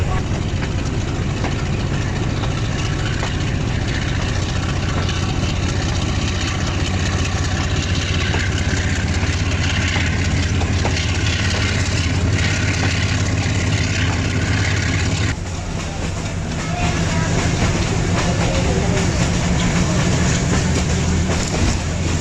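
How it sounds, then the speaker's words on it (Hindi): Lasani Express passenger train pulling out of Pasrur railway station in Pakistan at dusk, a loud steady rumble of wheels and engine with rhythmic clatter throughout, briefly dipping midway before the roar resumes. "125 अब लासानी एक्सप्रेस पसलू रेलवे स्टेशन से रवाना हो रही है"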